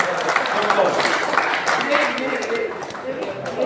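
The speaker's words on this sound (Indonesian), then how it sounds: "Tepuk tangan untuk dokter." A crowd applauds steadily, a dense wash of clapping from many hands that holds at an even level throughout.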